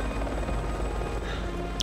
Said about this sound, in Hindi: हेलीकॉप्टर भी आ चुका है।